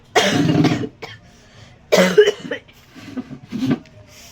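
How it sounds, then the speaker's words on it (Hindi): A woman coughs painfully while chilled after washing her hair, in three separate bursts: a long harsh fit, a second rough burst after a pause, and a weaker double cough at the end, close and loud. "खांसना मुश्किल हो गया है, मतलब जिसके है ना कितना पेन हो रहा है खांसने पर भी।"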